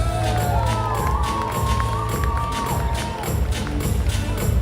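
Wedding reception guests cheer for the finale dance performance, a sustained crowd roar with whoops and shouts filling the room, loud and continuous for several seconds.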